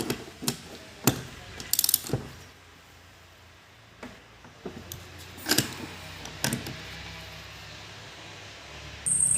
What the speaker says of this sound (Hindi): सिलेंडर हेड के नट बोल्ट हमेशा क्रॉस में कसें आप। ये देखिए हम लोग क्रॉस में कसना है।